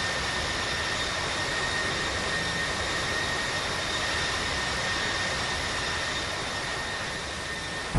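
A jet airliner's engines roar steadily and loudly as it takes off from runway 35 at Canberra, a dense continuous rumble with no pauses.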